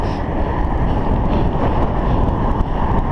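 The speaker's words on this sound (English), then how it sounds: "goodness, it's windy today." Heavy wind buffets the microphone while road cycling on a street in Lusaka, Zambia, a steady low roar, continuous and loud throughout, with no voices.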